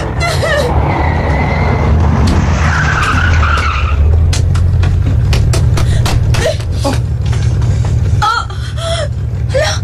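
A car skids to a stop on a road, its tires squealing sharply over a loud, steady engine and traffic rumble, with people gasping and shouting nearby.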